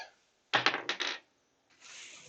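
A quick clattering burst of several dice tumbling and bouncing on a hard surface, close and fairly quiet, followed by a softer scattered rattle as they settle.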